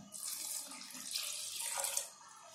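Water pours from a tap into a cooking pot at home, a steady close splashing rush that swells and then eases off near the end, with no talking.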